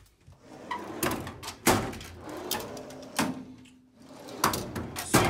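Drawers on a Snap-on heavy-duty roadster tool chest with dividers slide open and shut, each run ending in a sharp metallic thunk, several in sequence, close and fairly loud without talk.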